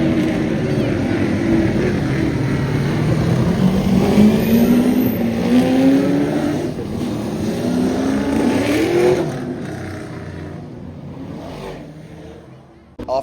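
An American muscle car engine revs loudly at the Adelaide Motorsport Festival, its pitch climbing in repeated sweeps as the car accelerates, with crowd and ambient noise underneath.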